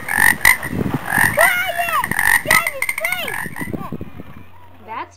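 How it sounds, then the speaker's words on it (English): Frogs croaking close by in quick, overlapping bursts of rising and falling calls that answer one another, tapering off near the end. "you can hear them croaking at each other."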